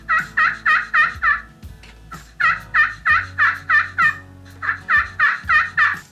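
A hunter's turkey call imitates a hen's tree yelp, sounding three close, loud runs of five or six evenly spaced, raspy yelps with short gaps between the runs.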